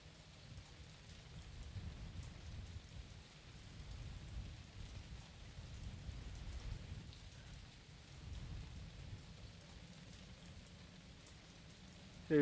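Steady rain falls in the video game Mon Bazou, a soft continuous patter with low rumbling beneath, faint and unbroken with no talk.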